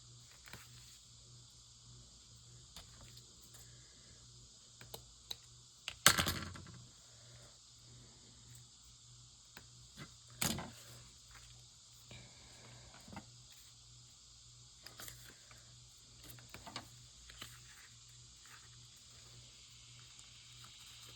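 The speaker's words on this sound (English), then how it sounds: "Is that the cicadas y'all hear?" Cicadas drone outdoors in a steady, faint, high buzz that never stops, broken by a few sharp nearby knocks and rustles.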